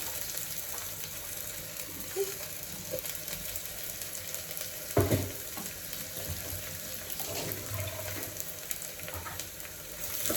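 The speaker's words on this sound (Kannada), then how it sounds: "ಅದು ಚೆನ್ನಾಗಿ ಎಣ್ಣೆಯಲ್ಲಿ ಫ್ರೈ ಮಾಡ್ಕೊಳ್ಳೋಣ." Dill leaves fry in oil for mushroom pulao, a soft continuous sizzle with a few stirring knocks and scrapes from the pan, close and fairly quiet.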